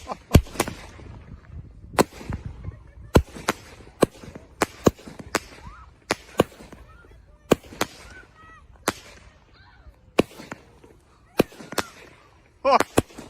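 Canada Day fireworks display with sharp, irregular bangs and pops going off one after another, some louder and nearer, with crackle and faint voices between the bursts.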